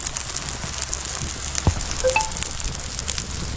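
Egg paniyaram batter sizzles in a hot paniyaram pan, a soft steady crackle with a faint frying hiss and a light clink of a utensil midway.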